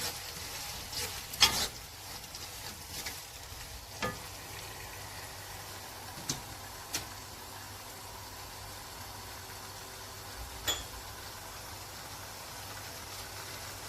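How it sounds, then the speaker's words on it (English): Meat frying in a pan with bay leaf nearby for a Sudanese kebab, a soft, steady sizzle underneath occasional louder clicks and clatters of stirring, fairly quiet and without talk. "So just want to fry it."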